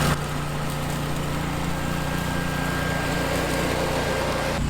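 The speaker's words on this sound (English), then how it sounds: "This mower is just real quiet." A compact tractor mower with flat, non-mulching blades runs at a steady, even drone, close and continuous throughout with no change in pitch, and no voices are heard.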